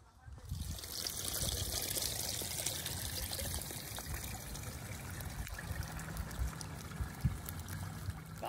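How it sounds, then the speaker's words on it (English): Water from a spring pours and trickles in a steady, continuous wash of sound, fairly faint and unbroken throughout. "There is our droplet of water flowing from the spring."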